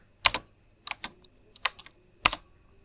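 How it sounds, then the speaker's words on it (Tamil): Quick taps on a phone keyboard while typing WhatsApp into the Play Store search bar, heard as short clustered bursts with brief pauses between them, close and fairly clear with no talking. "ப்ளே ஸ்டோரில் போய்ட்டு சர்ச் பாரில் வாட்ஸ்அப் அப்படின்னு டைப் பண்ணுங்கள்"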